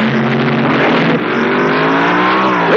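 Nitromethane-fueled funny cars launch at the 1970 NHRA U.S. Nationals drag race, a loud, continuous engine roar with rising pitch sweeps as the cars accelerate hard away from the line.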